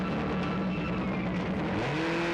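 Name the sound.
race car engines firing up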